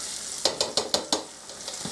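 Breaded chicken parmesan fries in a pan, a soft steady sizzle carrying a quick run of five light clinks or taps from a utensil, no talking.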